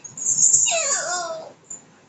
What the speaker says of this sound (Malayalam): കുറുക്കനാന്നോ ഓലിയിടുന്നു